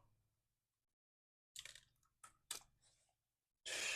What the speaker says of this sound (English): He is chewing the hell out of my leash.